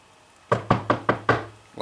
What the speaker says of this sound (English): I hear knocking on the door